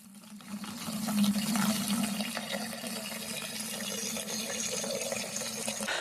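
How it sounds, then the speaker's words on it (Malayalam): Water gushes steadily from a tap into a bucket, a close, continuous rushing pour with a slight rising fill tone and no voices. "നമുക്കൊരു ബക്കറ്റിൽ കുറച്ച് വെള്ളം പിടിച്ചുകൊണ്ട് വരാം"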